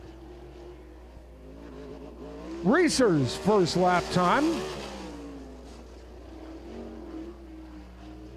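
Tyler Reeser's number 35 car from Elliotsburg laps Lincoln Speedway during PA Speedweek, its engine roaring loud and then fading as it passes, while an announcer speaks over the track noise.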